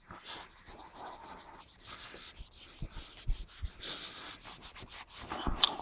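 A clean cloth rubbed vigorously over an HW100 rifle stock during restoration, giving quiet, steady scrubbing strokes with a few sharper rubs and knocks near the end, with no voices.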